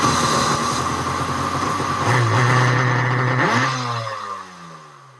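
Superjet stand-up jet ski engine, freshly rebuilt, revving hard against its rev limiter, a loud steady buzzing drone with a rising pitch sweep before the revs drop away near the end, no talking.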